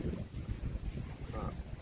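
Strong cold wind buffets the microphone at a rocky fishing spot in Kaeng Krachan, a steady loud low rumble that roars throughout with no break.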